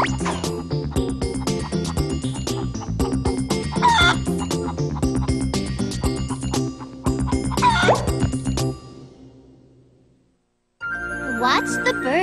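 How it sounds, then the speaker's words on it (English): A large cartoon chicken clucks and crows over jingling, tinkling music, with busy overlapping bird calls that fade to near silence before a brief return. "It's a chicken! And a pretty big one at that."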